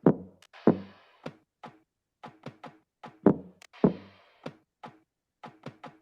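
A percussion loop from a beat plays dry knocking and tapping hits in a syncopated, repeating pattern, with heavier thumps among lighter clicks and no voices.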